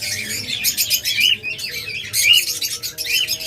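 Violet masked lovebirds call in a series of shrill, rapid chirps and squawks, loud and close, with short pauses between bursts over faint background noise.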